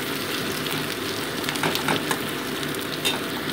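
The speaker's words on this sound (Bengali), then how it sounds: "আরও 2 মিনিট আমি হালকা একটু জাস্ট সটে করে নিচ্ছি বেগুনটাকে" Steady sizzling as eggplant pieces sauté in a pan, with occasional stirring scrapes, continuous and fairly close, no voices.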